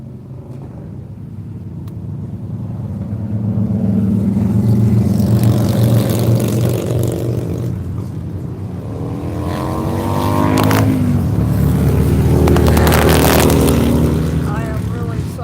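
Motorcycles during bike week near Myrtle Beach International Airport, loud rumbling engines swelling and revving as they pass, heard under a person talking.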